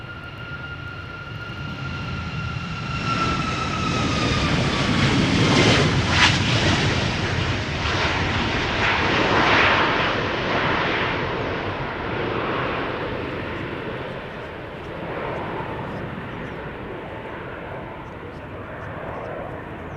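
Loud jet airliner departing from the Polderbaan runway at Schiphol, a sustained roaring engine rumble with rising whine tones that swells and stays strong throughout, with faint voices in the background.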